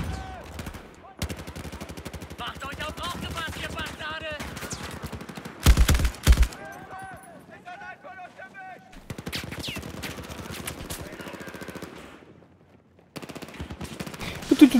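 Machine gun in the video game Battlefield 4 with a 100-round magazine fires in long rapid bursts, steady rattling volleys broken by brief pauses, a few louder blasts and game effects mixed in.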